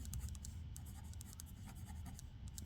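A pen scratches across paper as a math problem is worked out by hand, with a steady run of soft, close strokes and small taps over a low background hum.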